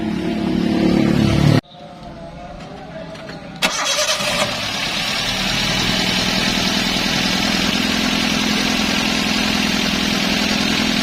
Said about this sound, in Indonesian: mesinnya kita nyalakan ya. Nah, untuk mesin suaranya masih halus ya